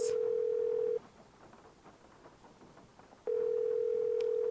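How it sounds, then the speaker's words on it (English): A steady telephone tone in the Nancy Drew game Legend of the Crystal Skull sounds loud and even, cuts out for about two seconds of faint hiss, then resumes. There is no talk. "make a phone call to Hotchkiss"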